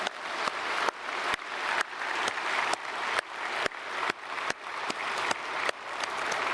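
Steady applause from a large church congregation at a Christmas service, dense clapping that carries on unbroken throughout, fairly close and even in loudness.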